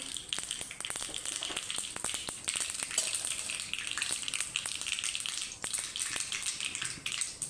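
Mustard seeds, cumin and a little sugar hit hot oil, giving a close, faint sizzle studded with rapid sharp pops and crackles throughout.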